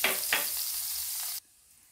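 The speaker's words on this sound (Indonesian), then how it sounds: "Goreng dulu ikan asin layurnya." Salted dried ribbonfish frying in hot oil in a home kitchen, a loud steady sizzle and crackle with a couple of brief stirring bursts, cutting off abruptly near the end.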